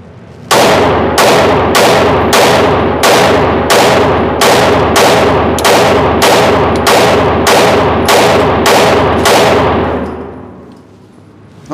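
Handgun fire at a target: about fifteen sharp, loud shots in a fast, evenly spaced string, each ringing briefly before the next, close by and without talk.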